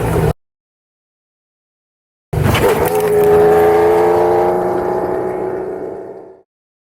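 A rally car on a transport section of the East Africa Safari Classic roars close by after a short gap, its engine note sustained and loud before fading and cutting out.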